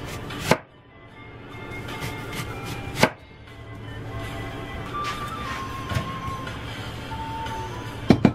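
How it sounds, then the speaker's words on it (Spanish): A knife chops onion on a board for a shrimp ceviche: a few sharp, separate strikes stand out over steady low background noise, with no speech. "Voy a cortar la cebolla."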